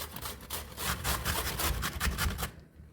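Rhythmic rasping strokes of zucchini being grated, steady back-and-forth scraping close by, stopping abruptly near the end.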